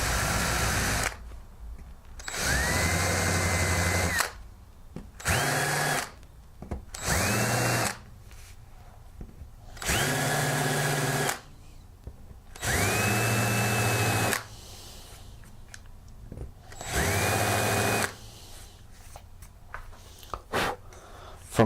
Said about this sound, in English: take a countersink bit and I want to countersink these holes